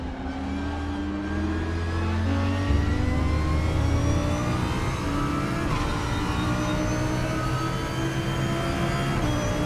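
An Audi R8 race car in the RaceRoom racing game, driven in a Super GT race at Sepang, roars continuously at close range, its engine revving and shifting pitch as it accelerates, with no talk over it.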